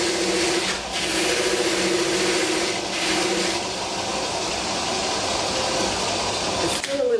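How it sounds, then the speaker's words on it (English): A lapidary polishing wheel charged with 3000-grit diamond hums steadily and loudly as a stone is pressed against it, with a scraping change near the end and voices talking at times. "And the final wheel that I use is a 3000 diamond grit."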